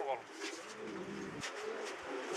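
A male pigeon among many doves in a Cuban loft gives a soft, low cooing call in a short, quiet phrase, with a voice talking over it and background noise.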